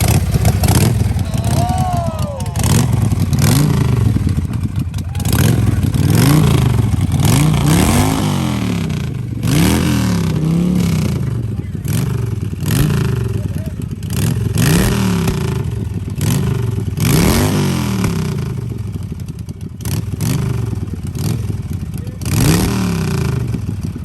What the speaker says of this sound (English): The British bike started.